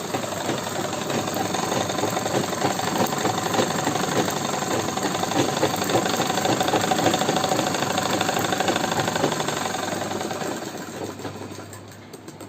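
Sewing machine stitching a patiala salwar, a steady loud continuous mechanical whir and rapid rattle of the needle running without pause, easing slightly near the end.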